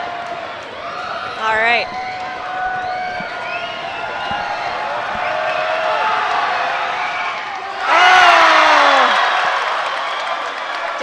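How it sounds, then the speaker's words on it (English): Home crowd at a St. George's basketball game roars steadily in a loud gym, with a sharp whistle early on and a swelling burst of cheering near the end, while commentators talk over it. "the hometown crowd is cheering for St. George's"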